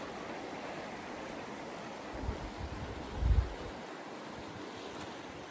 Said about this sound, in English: maybe not when the water's as choppy as it is